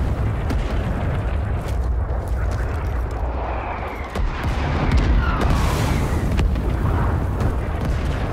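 Artillery explosions in Rising Storm 2: a dense, continuous rumble of booms and blasts, loud and close, with scattered sharp cracks and a few louder swells over a chaotic battlefield din.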